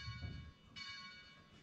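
Simulated bell bong from bell-ringing software, a faint single tonal strike that rings on briefly, with a second soft onset partway through.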